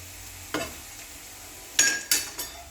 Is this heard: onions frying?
yes